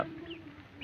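A pet bird gives short clucking calls with a couple of thin, high chirps, close by and fairly quiet.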